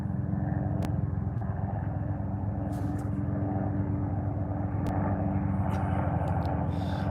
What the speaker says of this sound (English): We got a helicopter out here.